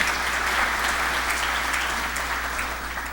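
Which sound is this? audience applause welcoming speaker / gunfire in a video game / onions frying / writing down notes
audience applause welcoming speaker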